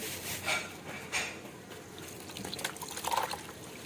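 Coconut milk poured into dinuguan, a pork blood stew, in a pot: liquid splashes and trickles in a few uneven bursts, moderately close, with no talking.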